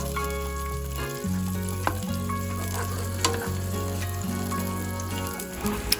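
Garlic and onion sauté together in cooking oil in a pan, giving a steady, close sizzle with occasional stirring clinks and no talk.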